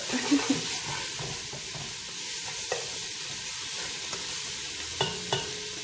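Onions sizzle steadily in a hot pan, a constant frying hiss broken by occasional scrapes and stirs.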